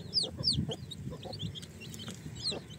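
A hen on an organic free-range farm clucks in short, repeated bursts close by. Bright chick peeps chirp over the clucks throughout.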